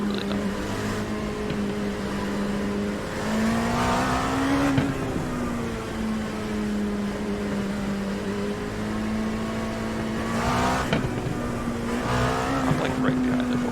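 An LMP2 prototype race car at Sebring in the iRacing sim, its engine droning at a steady high pitch with rising and falling revs through shifts and corners, loud and continuous throughout.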